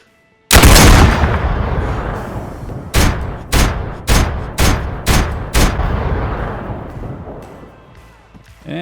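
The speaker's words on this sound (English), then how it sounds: "And finally, we have the Barrett M82 50 BMG semi-automatic." Seven loud, sharp gunshots from a Barrett M82 .50 BMG semi-automatic rifle in a video game ballistics test, beginning with one long booming report followed by six evenly spaced rapid shots, each with a short echoing tail.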